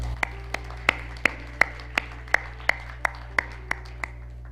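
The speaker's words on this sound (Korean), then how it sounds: "우리 감사와 영광의 박수를 올려드리겠습니다." Sparse, slow rhythmic hand claps at a church worship service on the last Sunday of 2017, about a dozen evenly spaced sharp claps over a steady low hum, with no talking.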